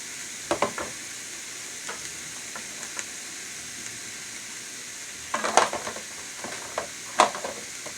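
Green bell peppers and jalapeños sauté in a pan with a soft, steady sizzle, broken by a few louder scrapes and clinks of stirring near the beginning and again toward the end.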